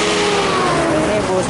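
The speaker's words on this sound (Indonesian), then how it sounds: "Ini bus Budiman." A Budiman intercity bus on the Tasikmalaya–Lebak Bulus southern route drives along the highway, its engine giving a loud, continuous drone with a shifting tonal hum over steady road rumble throughout.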